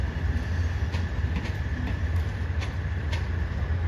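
Continuous low rumble of a Thai southern-line express passenger train rolling along the rails, with occasional clicks and a faint steady whine over the drone.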